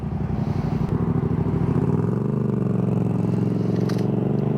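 A Savic premium electric motorcycle, about 280 kilos, pulls away from a standstill with a steady, close, loud whirring hum that climbs slightly in pitch as it rolls off, with some road noise underneath.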